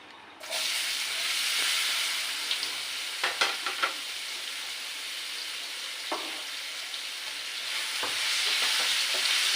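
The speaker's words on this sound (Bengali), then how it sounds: "আলুটা ভাজি করে নেব" Potatoes frying in a pan of oil give a steady, close sizzle and hiss, with occasional scraping stirs across the pan and no voices.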